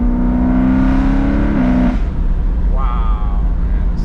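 A Dinan stroker BMW M3 E92 engine revs, a loud, close droning tone that climbs briefly and then drops away, with people talking over it.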